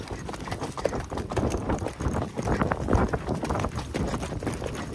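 Horse hooves clip-clop steadily on a trail ride, a continuous rhythmic patter of several horses walking close by, with faint talk mixed in.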